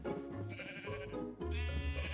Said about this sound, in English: So if I can get these sheep to focus for a minute, we'll just add them to the collection.